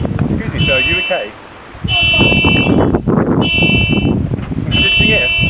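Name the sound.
car horn sounding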